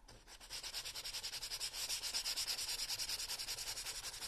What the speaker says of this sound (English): Now I can get that sandpaper